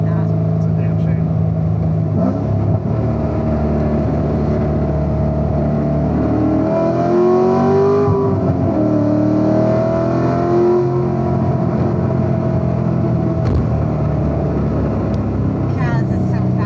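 A Chevrolet Camaro ZL1 engine holds a steady loud drone and climbs through a rising rev in the middle, heard from inside the car with voices talking over it throughout.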